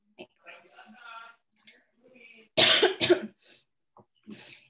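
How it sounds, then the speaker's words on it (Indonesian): Two loud, harsh coughs in quick succession, close by, with quieter speech before and a few soft sounds after. "Aduh, kok batuk."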